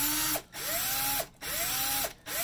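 Power drill boring a hole with a 2.5 mm bit for a 3 x 0.5 mm screw in a new ground-screw flange, heard close up as three repeated spin-ups of rising whine, each cut off by a brief pause.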